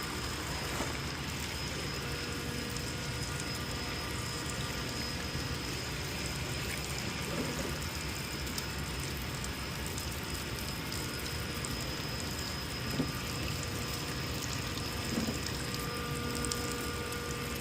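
A parts washer runs with 2007 Ford Mustang cylinder head parts soaking, giving a steady, even splashing and pouring wash of fluid with faint clinks, unbroken throughout and free of talk.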